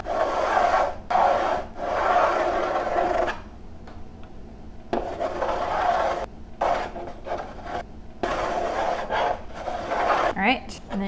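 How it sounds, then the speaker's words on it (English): A cake scraper smooths buttercream on a double barrel cake, giving repeated soft scraping and rubbing strokes in bursts separated by brief pauses, close and moderately loud. "smooth away the excess buttercream. Do not be tempted to move your scraper back and forth."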